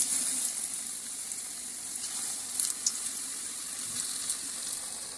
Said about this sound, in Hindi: और अब हम इसको जो है वो ऑयल में डालेंगे।